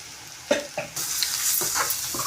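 Onions fried in oil with green chilies, just dusted with turmeric and chili powder, stirred in a pan for a spicy prawn curry: a few distinct scraping strokes over a steady close sizzle, no talking.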